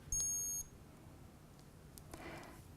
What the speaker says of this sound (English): On program 3, I've actually put the audible alarm on to demonstrate to you.